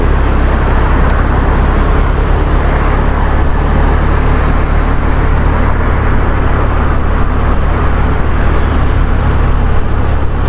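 A motorcycle ride through the streets of Kediri city at night gives a steady, loud engine and road rumble with wind and passing traffic, unbroken for the whole stretch and without any talking.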